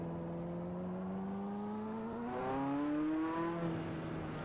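A race car engine in the Assetto Corsa racing game drones steadily with a rising rev sweep toward the middle, then eases back, heard alone with no talk.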